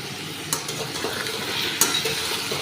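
Pumpkin frying in a pan with salt and turmeric, a soft continuous sizzle with two brief scraping strokes of a spoon or spatula as it is stirred, close and steady with no talking.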